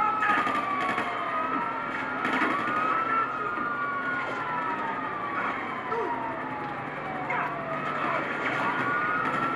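A fire truck siren in a video game highway scene, wailing in continuous rising and falling sweeps over a steady backdrop of traffic and engine noise.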